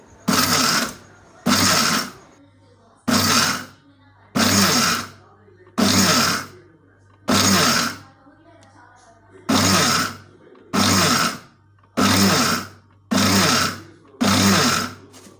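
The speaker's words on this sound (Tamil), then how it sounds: "அதையும் மிக்சியில் சேர்த்தி நல்லா வந்து ஓட்டி எடுத்துக்கலாம்." A kitchen mixer grinder pulses through sesame powder mixed with country sugar, about a dozen loud bursts of roughly a second each separated by short quiet gaps, with a faint hum in between.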